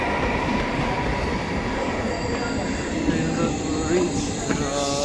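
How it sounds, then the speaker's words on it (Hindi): A train pulls into a railway platform with a loud, continuous rumble of wheels on rails and faint squealing, filling the whole stretch close by. "ट्रेन आ गई है"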